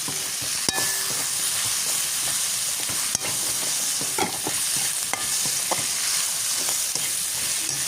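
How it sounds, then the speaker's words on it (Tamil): Cut tomatoes sauté in a hot pan for spicy fried Jaffna chicken, making a steady, loud, dense sizzle with a few light clicks from stirring throughout. "வெட்டு வச்சு தக்காளி பழம் போட்டு நல்லா வதங்க விடுவோம்"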